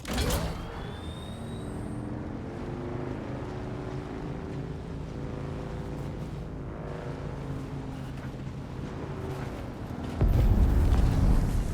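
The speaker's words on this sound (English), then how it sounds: "that explosion you just heard is what we call a spice blow" A spice blow explosion in a video game, a sustained low rumbling roar that swells and holds for several seconds, then surges louder near the end, with no talk over it.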